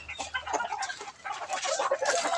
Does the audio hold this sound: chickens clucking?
yes